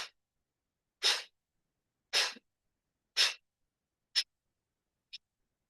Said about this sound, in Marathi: घेतलेला श्वास बाहेर जोरात सोडायचा